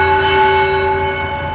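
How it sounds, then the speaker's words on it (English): Church bells toll at a church in Kochikade during a morning remembrance for attack victims, a steady, sustained ringing with long overlapping tones that hold loud and even throughout. "The bells tolled at the church at 8:47 a.m."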